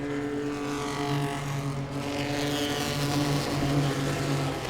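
Pro-Six race cars racing at Langley Speedway, a steady loud drone of several engines at speed with overlapping tones holding near-constant pitch, heard from trackside.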